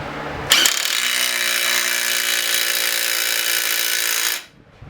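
A cordless impact wrench tightens a bolt to around 100 foot-pounds in one loud, continuous rattling burst of about four seconds, then stops abruptly. A short mechanical sound comes just before the burst.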